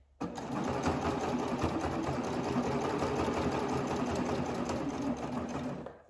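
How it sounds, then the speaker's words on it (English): A serger or sewing machine runs one continuous, close, steady stretch of about six seconds while sewing a lined dress neckline, then cuts off, with no voices. "you are just holding the fabric as you're serging or sewing"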